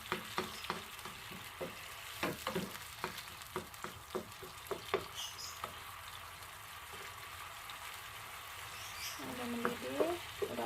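Coconut milk fish broth sweetened with palm sugar bubbles and sizzles in a pan, stirred with scattered clicks and scrapes of a utensil at close range, quiet overall.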